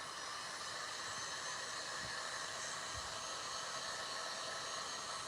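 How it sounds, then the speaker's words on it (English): A heat gun blowing on a craft project, producing a steady, close broadband whoosh of hot air that holds constant from start to end. "let me go ahead and just hit this with the heat gun just a little bit"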